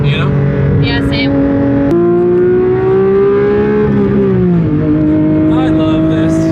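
A Porsche 992 GT3 RS flat-six on a mountain road in the Smokies, its loud steady engine tone rising and falling through the gears from inside the car, with people talking over it.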